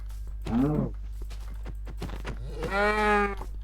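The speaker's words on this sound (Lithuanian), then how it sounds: "Karvės." Cows in the video game Minecraft, giving two drawn-out moos a couple of seconds apart, with soft clicks and a low background hum between them.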